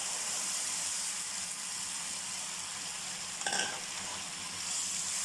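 Ginger tamarind pickle with black sugar stirred in a pan, a steady low frying sizzle throughout with a brief louder scrape of the spoon partway through.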